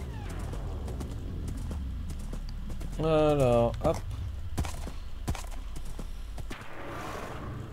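Hooves clip-clop from a horse in the video game Minecraft, a steady light patter mixed with a brief neigh-like whinny in the middle, while someone talks over it throughout.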